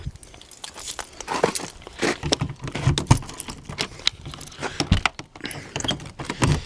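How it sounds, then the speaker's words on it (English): Keys jangle and clink in a rapid, irregular metallic rattle after being dropped in snow. The sound is close and fairly loud, with soft crunching and shuffling mixed in. "I dropped my keys in the snow"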